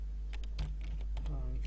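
Quick, close keystrokes on a computer keyboard tap out a short word, a brief run of light clicks under a speaking voice.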